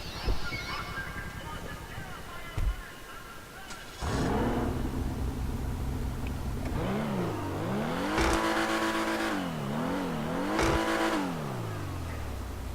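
A revving car engine in Grand Theft Auto 5, a modded Vapid Bullet, rising and falling in pitch with sharp gear-shift jumps, loud and close, preceded by a brief honk-like tone.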